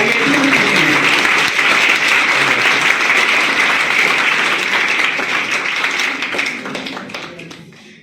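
Loud, sustained applause from a large crowd at a motivational seminar at an inter college, many hands clapping at once, steady for several seconds before tapering off at the end.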